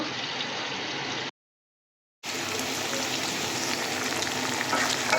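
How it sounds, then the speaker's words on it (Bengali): Flour-coated chicken pieces seasoned with salt and chili powder fry in hot oil for a homemade meat box, giving a loud, steady sizzle that cuts out for about a second and then returns even stronger. "এই তো আমার মিট বক্সের চিকেনগুলো কিন্তু খুব সুন্দরভাবে ফ্রাই হচ্ছে"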